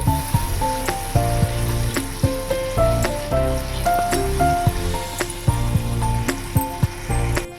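Chhana water stirred into a spiced mixture for chhana bhuna in a pan: rhythmic, loud scraping strokes roughly once a second over a soft sizzle, heard up close.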